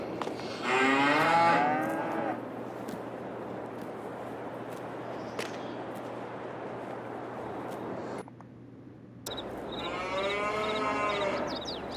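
Cows in the farming video game Farming Simulator 22 give two long, close moos, one near the start and another near the end, with steady barn ambience in between.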